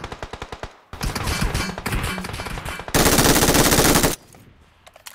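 Automatic rifle fire in the battle-royale game PUBG Mobile, an enemy shooting from the left: a rapid burst of spaced shots, then a dense sustained stream of close, loud gunfire that stops abruptly.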